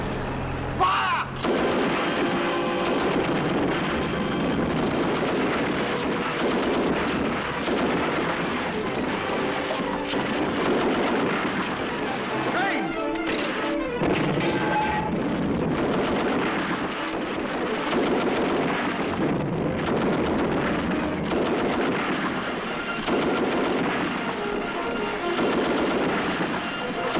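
Heavy artillery and rifle fire roar through a battle scene in a classic British war drama, a dense, continuous barrage of booms and crackling shots with wind-like rumble and occasional shouted voices underneath.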